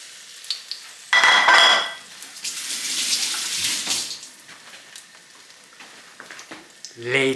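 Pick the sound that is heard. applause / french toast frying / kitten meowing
french toast frying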